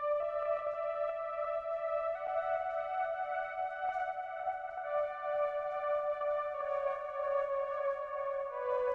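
A bright sawtooth synth lead from a Diva preset plays long sustained notes that step to new pitches every couple of seconds, rich in buzzy harmonics, clean and steady with no voices.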